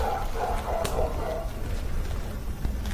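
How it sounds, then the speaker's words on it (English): Dogs bark and yip in short bursts from inside a building at a moderate distance, with faint whimpering among the calls in a reverberant space. "more dogs still barking from inside"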